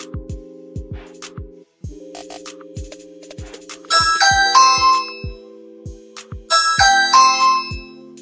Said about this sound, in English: I will go ahead and push this again so you can hear the chime